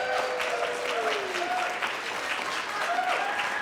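Applause from a church congregation rolls on steadily for a few seconds, moderately loud, with a sustained tone and faint voices running underneath the clapping.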